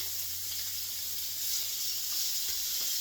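Bacon for BLTs fries in a pan with a continuous close, bright sizzle and hiss, steady throughout with faint pops and no talking.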